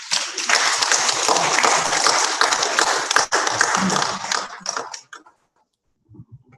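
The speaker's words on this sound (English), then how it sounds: "Can you please give us another round of applause?" Audience applause at a youth internet governance forum in Nigeria, a dense sustained burst of many hands clapping close by that dies away after about five seconds, leaving near silence with faint movement.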